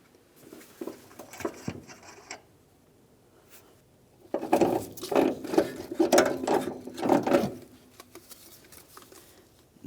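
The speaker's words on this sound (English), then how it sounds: "I'll reach down with one hand into the wheel well and hold onto the strut while I remove this last nut" Ratchet wrench removing the last strut nut inside the wheel well of a 2009-2019 Ford Flex, a few short clicking bursts early, a pause, then a longer run of rapid rhythmic ratcheting clicks, close and moderately loud.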